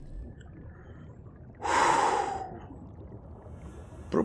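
A breathy gasp from a player character in the video game Subnautica rises and fades over about a second, followed by a short faint puff near the end against a quiet background.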